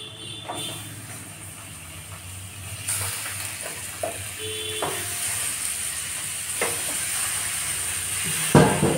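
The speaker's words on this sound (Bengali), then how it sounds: "এতেই আমি দিয়ে দেব। ভালো করে আমি ভেজে নেব লাল লাল করে।" A kilogram of meat fries with browned onions in a pan: a continuous close sizzle broken by scattered clinks and scrapes of stirring, with one louder clatter near the end.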